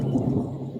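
A deep, brief rumble of thunder rolls low and steady for under a second, moderately loud and unaccompanied by voices.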